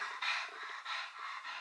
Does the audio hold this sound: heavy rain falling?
no